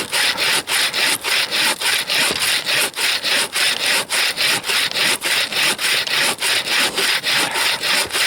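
A small hand saw cuts through frozen wood in the taiga at minus 50 degrees, giving loud, steady, rhythmic back-and-forth rasping strokes roughly three per second, close up and without speech.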